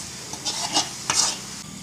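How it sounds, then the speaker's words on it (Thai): Small pieces of chicken stir-fry in a hot pan for a Thai larb dish, with a few short sizzling scrapes of the utensil and crackles in quick succession. "ลวนไปเรื่อยๆนะคะ ให้เขาสุกเลยค่ะ"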